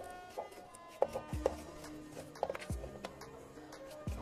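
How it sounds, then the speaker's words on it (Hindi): Knife chopping carrots into small pieces for a carrot and beetroot juice, a handful of sharp, irregular chops close by on a cutting board, each a crisp tap with quiet pauses between. "अब मैं गाजर के छोटे छोटे कट कर दूंगी इनको"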